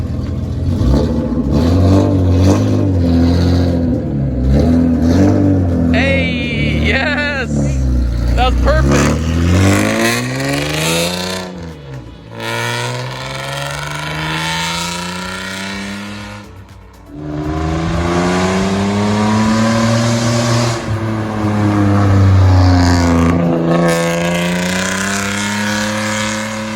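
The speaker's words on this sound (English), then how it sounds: "That car is so loud." A loud modified Toyota Cresta street car revving hard, with several rising and falling engine sweeps and roaring bursts close by, broken by short drops between revs.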